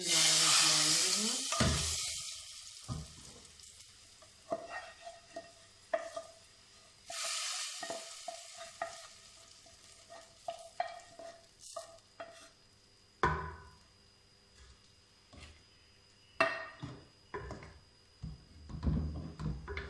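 Dal is stirred and mixed in a hot pan, giving scraping stirs and clinks over a faint sizzle, with sharp utensil knocks scattered throughout.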